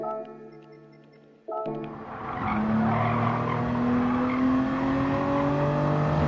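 A race car in the Gran Turismo video game corners on the Dragon Trail circuit under light throttle lift, its tires squealing and skidding as the engine drone rises steadily after a brief quiet moment.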